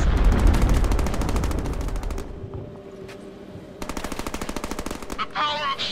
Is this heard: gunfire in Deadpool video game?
yes